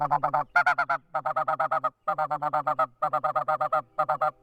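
A snow goose call imitates feeding geese with rapid bursts of short, clucking honks, loud and close, broken by brief pauses between runs.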